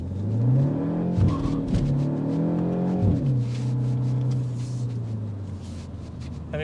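A 2025 Mini JCW Hardtop two-door accelerates hard in boost mode, its engine note rising through gear changes with brief drops between shifts, loud and close from inside the cabin.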